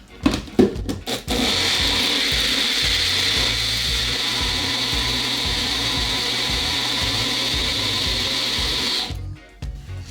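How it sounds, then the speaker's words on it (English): A Magic Bullet blender whirring through a jerk steak marinade, a steady, loud motor whine running for about eight seconds after a few clunks of handling, then cutting off. "now it's time to blend up these using the magic bullet"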